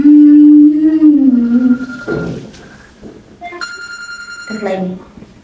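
A telephone rings with a short electronic tone between stretches of close conversational speech in a domestic scene.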